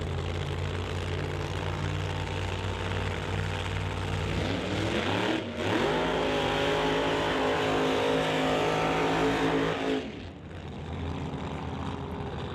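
Two supercharged drag race cars do side-by-side smoky burnouts at a Doorwarz drag racing event, a loud, continuous engine roar with pitch sweeps and a brief dip midway before the engines drop off near the end.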